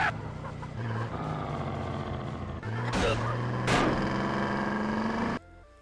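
Car engine noise from the GTA Definitive Edition video game, steady humming tones that shift pitch partway, with two sharp bursts near the end before it cuts off abruptly.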